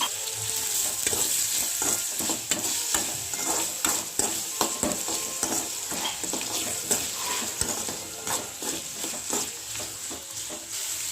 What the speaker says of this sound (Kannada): ಆಮೇಲೆ ಈರುಳ್ಳಿ ಮತ್ತು ಹಸಿಮೆಣಸು ಹಾಕಿ ಹುರ್ಕೋಬೇಕ್ರಿ.